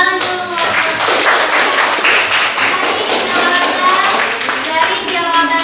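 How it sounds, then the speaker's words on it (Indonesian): A class of students claps their hands in a classroom session, loud, fast and continuous clapping close by that lasts several seconds, with faint children's voices mixed underneath. "Oke, tepuk tangan dulu."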